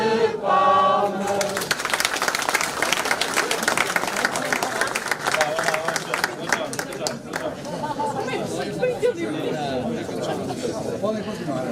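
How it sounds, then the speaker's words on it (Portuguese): At an outdoor parish day celebration in Brufe, Portugal, a crowd breaks into sustained applause that goes on for several seconds. A voice speaks before it starts, and crowd chatter mixes in while the clapping continues. "Uma salva de palmas."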